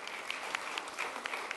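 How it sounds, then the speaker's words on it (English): An audience applauds an expert panel on private equity at a conference, with steady, dense clapping throughout and no one speaking. "a round of applause for you as well"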